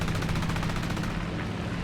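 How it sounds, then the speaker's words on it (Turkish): Rapid machine gun fire from an enemy plane's rear gunner in War Thunder, a dense, continuous rattle of closely spaced shots at steady loudness throughout. "Sıkma bize bize sıkıyor silahçısıyla."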